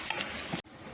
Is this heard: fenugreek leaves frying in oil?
yes